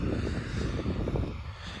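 Tractor engine pulling a large seeder while sowing rapeseed in a field: a steady, loud, low rumbling drone with no talk.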